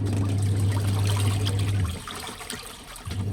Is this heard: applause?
no